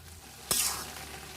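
A brief scrape of a spoon stirring beans and new potatoes in a hot pan, one quick sweep over a low sizzle, close and fairly soft.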